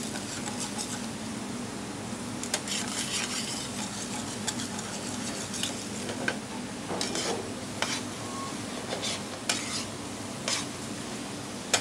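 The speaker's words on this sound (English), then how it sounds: "The body pieces are sautéed in three batches, deglazing the pan with clam juice after each." Sea bass pieces sautéing in a pan, giving a steady, fairly quiet sizzle with scattered light clinks and scrapes from stirring.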